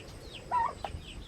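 A few short, close chicken clucks and a soft squawk over a low outdoor rumble, with no talking.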